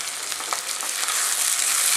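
Curry leaves fry in hot oil in a pan for Kerala beef roast, a loud, close, steady sizzle with crackling pops and faint stirring, and no voices.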